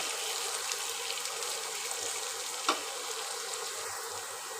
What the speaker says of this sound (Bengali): এটা সুন্দর করে একটু লালচে করে ভেজে নেব